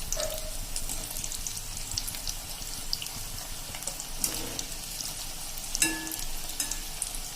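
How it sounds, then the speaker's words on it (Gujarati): Semolina rava bhajiya fritters fry in hot oil with a steady close sizzle and bubbling, broken by occasional scrapes and clinks of utensils; no one speaks. "તો હવે આપણા ભજીયા પણ તરાઈને રેડી થઈ ગયા છે."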